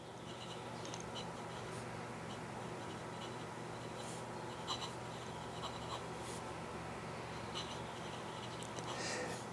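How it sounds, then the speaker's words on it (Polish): Soft, continuous scratching of a Xiaomi BRIO fountain pen with an extra-fine steel nib moving across paper, faint and close with small rhythmic strokes. "jeśli ktoś lubi odgłos pisania piórem, to naprawdę zakocha się w tym piórze wiecznym"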